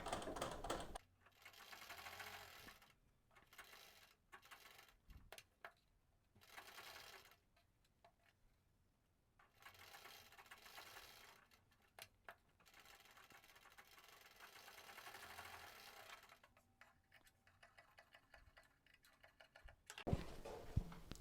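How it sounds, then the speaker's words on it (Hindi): A sewing machine stitches a sleeveless blouse, running in bursts of fast mechanical ticking and whirring separated by short pauses, close and fairly quiet. "इसको आप ऊपर से ही स्टिच करना चालू कर सकते हो"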